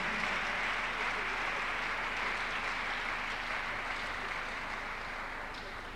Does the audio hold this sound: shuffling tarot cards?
no